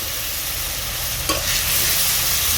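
A spice masala of ground cumin, coriander and dried red chilli, loosened with a splash of water, sizzles and is stirred steadily in a pan for a fish curry, with a brief scrape of the spoon partway through.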